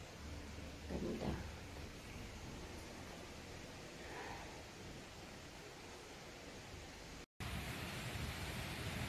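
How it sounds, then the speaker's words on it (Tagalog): Steady, dense broadband hiss of heavy rain pouring continuously, with a brief dropout near the end. "Ang lakas ng ulan, no?"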